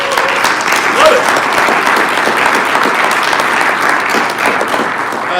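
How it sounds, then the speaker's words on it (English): Loud, sustained applause from a live audience at a show, a continuous wash of clapping with cheering and voices mixed in throughout. "Give him a round of applause"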